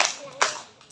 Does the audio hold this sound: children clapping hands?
yes